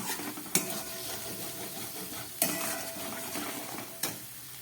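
Spices and sugar sautéing in a pan for a potol kofta curry: a steady sizzle with three sharp scraping stirs of a spoon against the pan at intervals, close and alone without talk.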